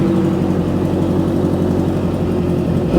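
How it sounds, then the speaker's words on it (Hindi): A 650cc motorcycle engine idles steadily with a deep, pulsing exhaust note at a used bike showroom, loud and continuous, rising slightly at the very end. "एक और 650 की बेस्ट रिलायबल इंजन के साथ में ये एग्जॉस्ट नोट भी सुनो"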